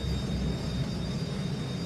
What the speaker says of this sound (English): Listen, that sounds like Big Jet!